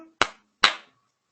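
Two sharp hand claps about half a second apart, crisp and close with no voices, keeping time in a Turkish children's clap-along song.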